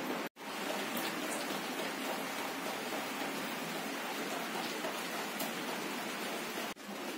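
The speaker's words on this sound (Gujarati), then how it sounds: "ધીમે ધીમે ચાલુ હે ટૂંકમાં વરસાદ" Steady light rain falls outdoors, a continuous soft hiss of drops on surfaces that holds evenly for several seconds with only a brief dip at the start and end.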